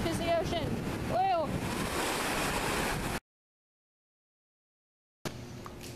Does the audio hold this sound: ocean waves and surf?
yes